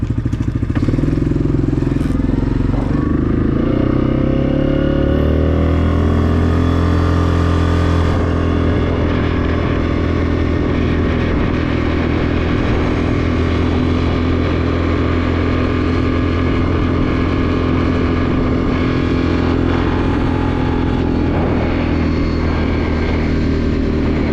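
A 2020 Yamaha Grizzly 700 ATV on 27-inch Blackwater Evolution ITP tires rumbles steadily while riding, its engine note rising then settling into a loud, continuous drone with clatter close by.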